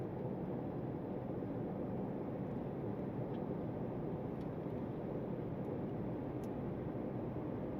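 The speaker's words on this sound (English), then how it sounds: "let's listen to the cabin volume at highway speeds" Steady broadband cabin road noise inside a 2026 Cadillac CT5-V Blackwing at highway speed on smooth tarmac, a quiet, even hush with no talking.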